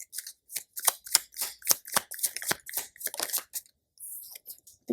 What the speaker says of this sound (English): I'm going to shuffle this.